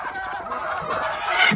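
Ready-to-lay hens on a small backyard farm cluck and chatter continuously, close by, with a brief louder call near the end.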